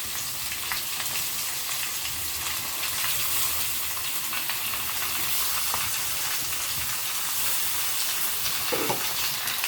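Chicken pieces sizzle and fry with potatoes in a hot pan for a spicy Bengali-style dish, a loud, continuous close-up crackle with steady hiss and occasional stirring, no voices.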